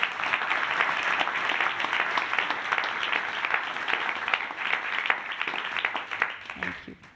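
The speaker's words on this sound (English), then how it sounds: "let's give them a huge round of applause" Dense, lively applause from a conference audience congratulating a group, sustained clapping with a few voices mixed in, tapering off at the very end.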